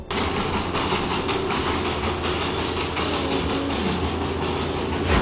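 Inside the Darjeeling toy train as it runs toward a tea garden: a steady, loud rumble of wheels and carriage with a rattling clatter that continues unbroken, with no talk.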